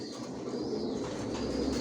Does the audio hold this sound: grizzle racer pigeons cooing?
yes